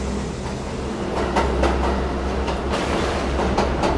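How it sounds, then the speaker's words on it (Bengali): A cartoon-style train pulls away from a stop with a continuous low rumble and rhythmic clacking, heard alone with no voices. "কিছুক্ষণ পর ট্রেন আবার চলতে শুরু করলো।"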